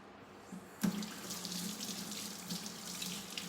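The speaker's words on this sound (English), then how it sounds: "Let's wash my hands." Water from a kitchen tap runs steadily into a sink for hand washing, starting with a sharp gush and continuing as a close, even splashing stream with no talking.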